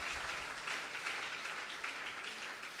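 A church congregation applauding to God after a sermon: a dense, steady wash of many hands clapping at a distance, continuous throughout with no pauses.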